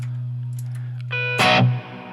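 An electric guitar runs through a Victory V4 Sheriff amp and BOSS GT1000 effects with added reverb, giving a sustained low droning note, then a bright strummed chord that rings out and decays into a reverb tail, with no talk.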